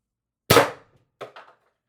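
A Pistelle X-68 air gun, fitted with a 60mm x 1.8mm bolt spring, fires one sharp, close shot that decays quickly, then two faint mechanical clicks.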